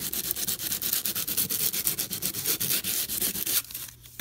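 Steady rhythmic scratching of sandpaper rubbed back and forth by hand over a wooden trinket box, close and continuous, easing off briefly near the end.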